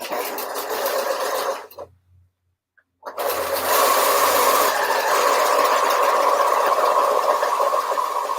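A sewing machine stitches fabric for a Christmas gift in a loud, steady mechanical whir. The motor pauses for about a second and then runs on continuously.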